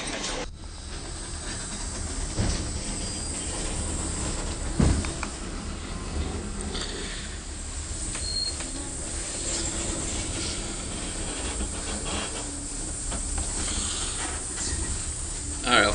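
Steam locomotive 6029 coupling onto its train, a long continuous broadband hiss of venting steam with occasional knocks and thumps, fairly loud and steady throughout.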